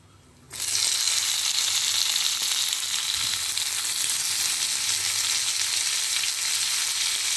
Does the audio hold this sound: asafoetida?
yes